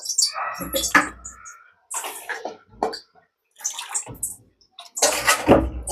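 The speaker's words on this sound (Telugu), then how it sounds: "ఇంకా వేయాలి దీంట్లో వాటర్" Water pours into a pot of crab curry (pulusu), heard as splashy gushes in several short bursts separated by brief pauses.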